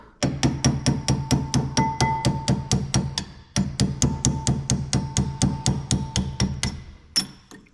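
A hammer drives a pin into a Brembo brake caliper on a Z31 300ZX big brake kit, two fast runs of evenly spaced, ringing metallic strikes separated by a short pause, close and loud.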